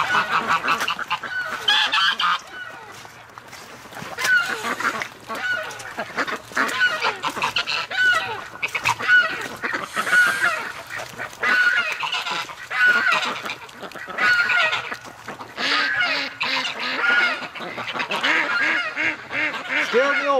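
Geese or ducks honk repeatedly through a winter creek scene, a steady run of nearby calls over a muddy, rustling backdrop, with no talking.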